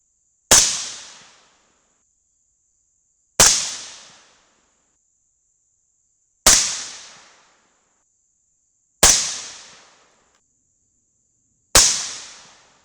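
Five sharp .223 rifle shots fired with Federal AR match primers, evenly spaced about three seconds apart, each a loud crack with a quick decaying tail and silence between.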